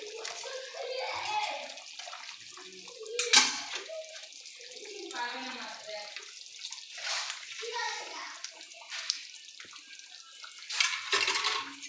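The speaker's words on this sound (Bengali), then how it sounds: "ঠান্ডা জল দিয়ে দিলাম" Cold water is poured into a cooking pot in a home kitchen, a faint splashing, running flow with intermittent sloshes, while a person talks over it.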